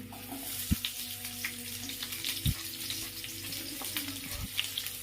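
Sliced onion, ginger and garlic frying in oil in a pan, a soft steady sizzle with a few clanks of a spoon or utensil against the pan, close and fairly quiet, no voices.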